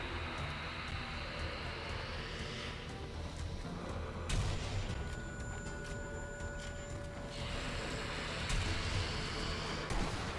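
Sniper rifle fire in the zombie shooter Sniper Elite: Nazi Zombie Army, a sharp loud crack near the middle followed by a lingering rumbling tail over a dense noisy game backdrop.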